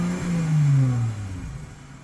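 A 2019 Dodge Challenger SXT with a 3.6L V6, running both resonators and both stock mufflers, revs once up and back down: a close, loud, smooth engine swell that fades toward idle.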